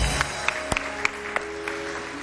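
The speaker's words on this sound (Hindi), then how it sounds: "बहुत सारी तालियां" Studio audience applause on a Women's Day special of a Pakistani morning TV show: a light, fairly quiet patter of clapping with a few sharper individual claps over about two seconds.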